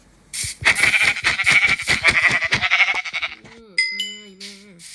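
Sheep in a survival video game bleat loudly in a long, wavering run of calls. A couple of short, higher game tones follow.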